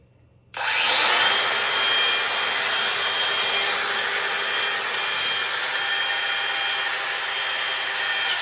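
A Ridgid battery-powered fan switches on after a moment of near silence and runs with a steady, bright whooshing hum. The airflow noise stays close and constant to the end, with no talking.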